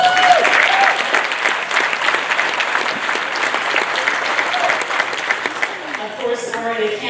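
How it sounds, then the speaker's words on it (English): Sustained applause from an assembly crowd at a Métis Nation of Ontario annual general meeting, steady dense clapping that runs for several seconds and then thins and tapers off at the end. "That's actually worth a round of applause."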